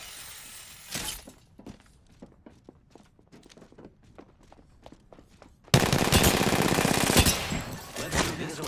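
Gunfire in an Apex Legends-style shooter hits Pathfinder: rapid bursts of shots at first, then a sudden loud barrage of impacts with shattering crackle that continues for several seconds.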